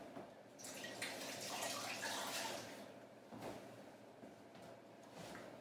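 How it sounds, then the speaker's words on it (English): Water runs from a kitchen tap while hands are washed beneath it during turkey escalope preparation, a steady close splashing rush that swells in the first half then eases to a lighter trickle with a few drips. "I'll wash my hands again."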